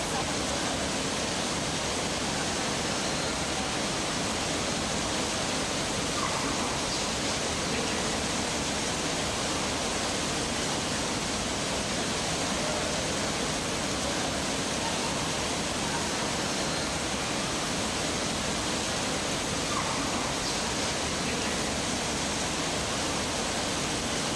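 Steady dense rush of artificial indoor rain falling in the Rain Room installation at the Barbican Centre, London, like heavy rain, constant and enveloping, with faint voices buried underneath.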